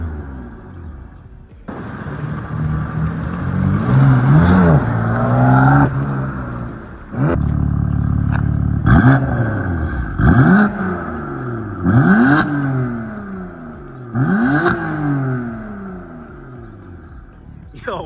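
A BMW engine revs hard several times in quick succession, each loud roar climbing and falling away, over a constant deep rumble.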